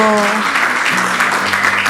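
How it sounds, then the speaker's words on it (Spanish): Audience applause for panelists at a conference discussion, loud and continuous, with voices talking over it. "Le vamos a dar un aplauso a nuestros panelistas"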